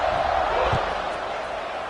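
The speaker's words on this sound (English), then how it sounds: "this crowd is buzzing after that last score" A football stadium crowd buzzes after a score, a broad steady roar of many voices with a brief thump partway through, heard close under a commentator's voice.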